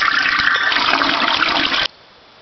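A toilet flushing in a house being winterized: a loud, close rush of water for almost two seconds that cuts off abruptly, leaving a faint residual hiss.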